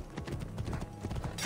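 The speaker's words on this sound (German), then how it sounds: "erstmal mein Pferd rufen" Steady clip-clop of horse hooves in the video game Assassin's Creed Origins, a quick continuous rhythm of hoofbeats at close range with faint background noise.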